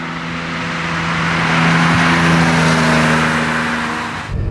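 A restored 1976 Porsche 911 2.7 S Targa engine pulls strongly while driving, a loud steady drone that swells and eases, heard alone up close.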